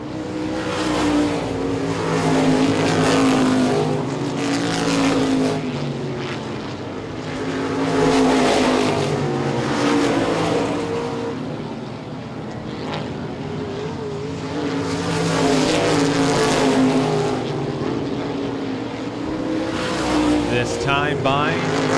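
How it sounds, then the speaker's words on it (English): Modified race cars roar around an oval track in an ICAR Top Speed Modified Tour race, engines swelling and fading in waves as the pack passes, loud and continuous under an announcer's commentary. "10 laps to go now for Sonny Coyne as he heads down the backstretch."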